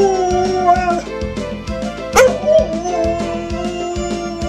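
A pet dog howls on cue beside a crying baby. The long wavering howl rises and falls close to the microphone over a steady rhythmic background.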